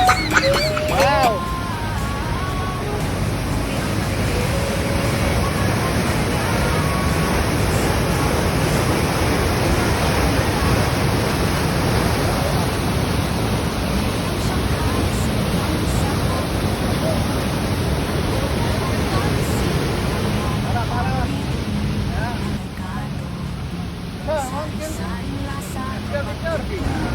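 A waterfall in Canada roars as a loud, steady broadband rush close by, with people talking over it.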